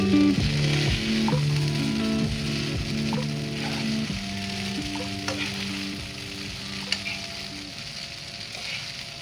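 Veg chowmein with paneer is stirred and tossed in a hot pan, giving a steady sizzling hiss with scraping and clattering stirs. A faint tonal hum runs underneath at the start.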